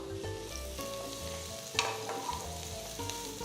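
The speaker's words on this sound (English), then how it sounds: "Saute the onions and garlic." Chopped onions and garlic sauté in butter in a pan, giving a steady close sizzle with scraping stirs and a few sharper clinks of a utensil against the pan. There is no talk.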